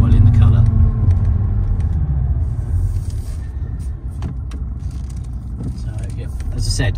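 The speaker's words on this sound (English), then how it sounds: "So we'll give it a little run now and just let you see how it drives" A 2018 Jaguar F-Type 2.0 P300 R-Dynamic automatic drives along with a steady low engine and road rumble, continuous and close from inside the cabin, with someone talking over it.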